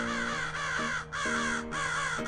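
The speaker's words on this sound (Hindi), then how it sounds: "ये कौवे इतनी तेज बिना रुके लगातार काव काव किए जा रहे हैं।" Loud, harsh crow caws repeating in three long bursts, one after another with brief gaps, close by and clear.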